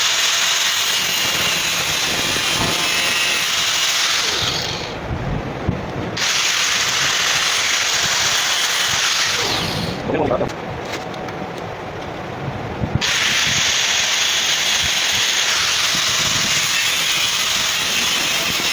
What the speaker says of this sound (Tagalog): puputulin ko na lang po yan sa grinder na yan